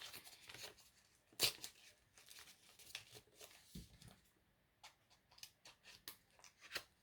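An envelope is opened slowly and carefully by hand, giving soft paper crinkles, rustles and small tearing sounds in scattered bursts, close and quiet with no talk.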